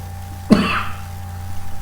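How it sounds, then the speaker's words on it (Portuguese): A single short cough, close and fairly loud, with quiet room hum before and after. "Um pouquinho de tosse."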